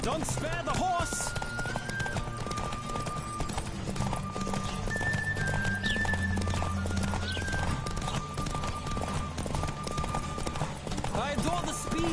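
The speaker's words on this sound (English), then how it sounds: "Don't spare the horse!" A horse in the video game Witcher 3 gallops with steady, rapid hoofbeats and neighs at times, close and loud, under music. Voices speak over it.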